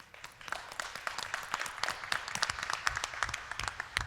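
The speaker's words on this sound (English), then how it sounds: "Give yourselves a round of applause." A room of attendees at a candidates forum applaud themselves, a moderate patter of many hands clapping at middling loudness, uneven but continuous.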